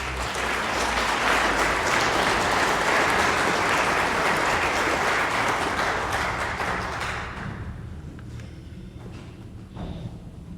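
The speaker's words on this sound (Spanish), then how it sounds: "un fuerte aplauso, por favor." Loud, dense applause from an audience at a book presentation fills the room, holding steady for about seven seconds before tapering into scattered fading claps.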